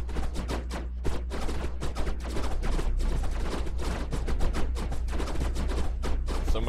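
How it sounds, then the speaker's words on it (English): Ship weapons in the space combat game Star Citizen fire in a dense, rapid stream of sharp shots for several seconds, loud and sustained like machine-gun bursts with a steady low hum underneath. "I was shooting at someone else"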